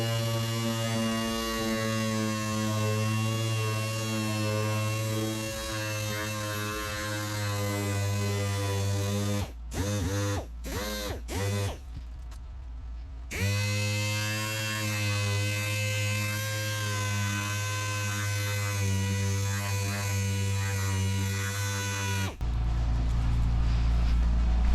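Electric sander working a car headlight with 3000 grit under a light mist, a steady buzzing hum with a few brief stops and restarts, close and continuous.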